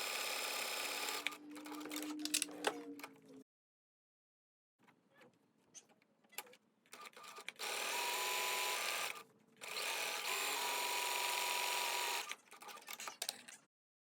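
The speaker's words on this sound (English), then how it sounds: "my sewing machine has an automatic buttonhole maker" A home sewing machine working an automatic buttonhole on shirt cuffs, running in steady motorized bursts of rapid stitching with short pauses and one longer silent gap between runs.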